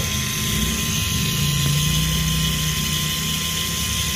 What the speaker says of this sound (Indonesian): suaranya pompa ABS nyala terus